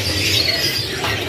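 White AF canaries at a bird kiosk chirp and twitter in a close, continuous jumble of high calls over a steady background hum.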